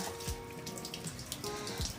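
Water runs from a tap at home into a container, a short stretch of faint splashing flow with a couple of small knocks.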